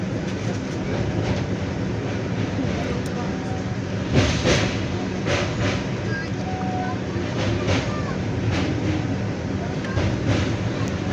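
A moving train rumbles steadily from inside a carriage, with rattling and occasional louder clacks over a constant roar.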